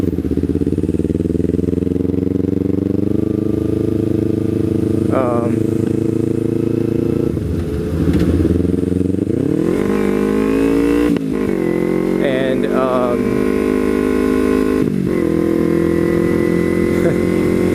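Motorcycle engine droning steadily under a rider's helmet-cam talk, with gear changes and revs rising and falling as the bike gets out on the road for a ride.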